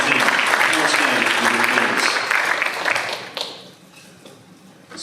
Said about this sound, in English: A big round of applause for our state championship softball team